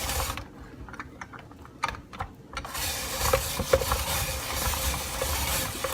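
A Veggietti Pro spiralizer cuts fresh garden vegetables into zoodles with a close, steady mechanical grinding and clicking ratchet sound, broken briefly by a few sharp clicks near the start before settling into continuous cranking.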